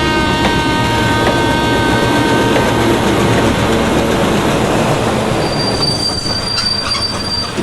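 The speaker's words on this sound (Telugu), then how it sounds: "పదరా, రైలు వెళ్ళిపోతుంది." A train pulling out of a station, loud and close, with steady rolling rumble and high metallic wheel squeal building toward the end, no talk.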